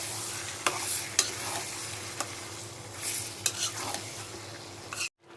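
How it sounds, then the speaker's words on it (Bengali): Chicken pieces sautéed with spices in a pan for a chicken and potato curry, a constant low sizzle under periodic sharp knocks of a spoon stirring against the pan, close and alone, cutting off abruptly at the end. "আমি এখন মাংসটা দিয়ে দিব। মাংসটা দিয়ে ভালোভাবে কষাই নিব।"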